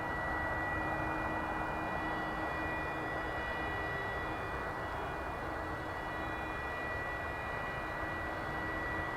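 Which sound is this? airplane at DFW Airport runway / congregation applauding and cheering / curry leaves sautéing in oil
airplane at DFW Airport runway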